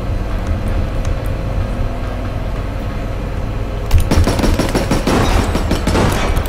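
Shotgun fire in a video game: a steady rumble of background noise, then a dense run of loud, sharp blasts in quick succession through the second half.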